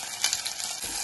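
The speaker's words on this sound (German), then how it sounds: "Und jetzt einfach schon mal die Kirschtomaten mit rein und richtig schön anschwitzen." Cherry tomatoes hit hot oil in a pan over high heat, giving a steady close-up sizzle and crackle with a few sharper spits, and no voices.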